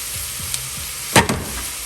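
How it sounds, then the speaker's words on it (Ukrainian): Carrots and peppers for Ukrainian borscht fry in a pan with a soft, steady sizzle, broken by a short pair of louder scraping clatters as the vegetables are stirred. "І обсмажуємо тепер нашу піджарочку."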